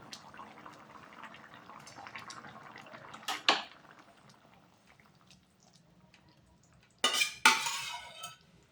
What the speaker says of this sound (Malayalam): ഞാൻ താളിക്കാനുള്ള ഉള്ളി ഇടുന്നു